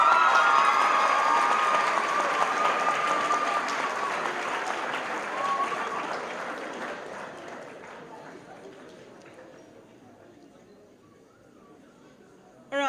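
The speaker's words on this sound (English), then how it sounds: "then we do a big clap" Loud applause and cheering from a school audience at a high school valedictory assembly, strongest at the start and fading steadily over about twelve seconds as it dies down.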